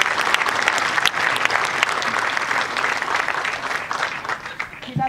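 A crowd at the Kings Mountain National Military Park 242nd anniversary ceremony applauds, a loud, sustained round of dense clapping from many hands that fades slightly near the end.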